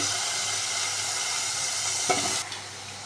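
Bottle gourd goes into a pan of cooked spiced masala, making a loud, steady sizzling hiss with a brief clatter near the end before the noise drops sharply.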